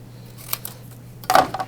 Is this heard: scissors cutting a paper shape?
yes